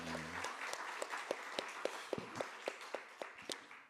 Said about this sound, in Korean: 이제 이 자녀를 다시 한번 축복하는 마음으로 박수 한번